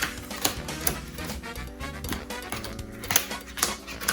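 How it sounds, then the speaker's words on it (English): A Yu-Gi-Oh trading card deck being pile shuffled, cards dropped one by one into piles in a quick, regular tapping rhythm with sharper snaps every half second or so, close up with no speech. "pile shuffling is just what I'm doing here"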